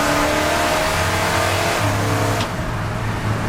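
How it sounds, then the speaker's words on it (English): A 1971 Chevy truck downshifts and pulls hard at full throttle, its engine roaring up in pitch as it accelerates, loud and close, then easing off near the end. "Maybe it shifts just a shade late, but if you nail it, it'll downshift and go."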